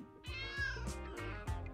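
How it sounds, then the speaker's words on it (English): Cartoonish cat meowing from the LEGO City Undercover game, a fire station mascot stuck on a ledge, giving several drawn-out, tonal meows in quick succession, close and clear with low game music underneath. "You want me to rescue a cat?"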